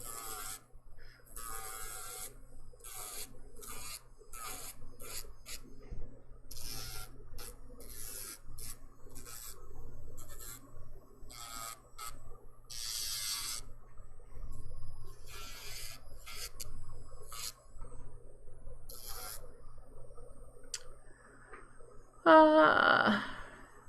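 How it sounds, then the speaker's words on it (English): Bursts of scratchy, raspy sanding come and go close by, an electric nail file grinding dip-powder nails in short strokes with quiet gaps between, ending in a brief whir. "Listen to my e-file."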